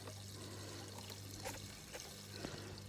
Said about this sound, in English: You can hear that the noise has changed. It sounds like it's working now.